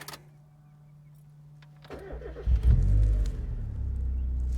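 A British Racing Green 1996 Mazda MX5 is started: a quiet lead-in, a brief starter crank, then the engine catches with a loud low rumble and settles into a steady idle close by.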